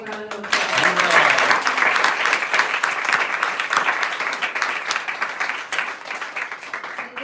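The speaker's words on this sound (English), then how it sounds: "Let's give them a big round of applause." Audience applause at a Vyasa Puja celebration at the Bhakti Center fills the room as dense, continuous clapping. A brief voice is heard at the start before the sustained clapping.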